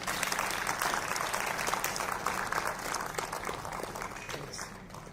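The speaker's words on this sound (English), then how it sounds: "Please give a big round of applause for it." An audience at an Indo-US workshop on AI in healthcare applauds in a steady, moderately quiet round of clapping that continues evenly and tapers slightly toward the end.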